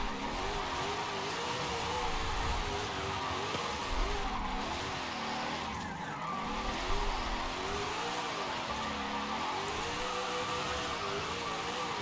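A Ford Mustang Dark Horse in Forza Horizon 5 holds a long drift, its engine note wavering steadily up and down with a constant tire hiss, loud and continuous with no talk.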